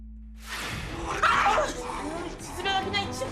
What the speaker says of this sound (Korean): 가족을 향해 으르렁대는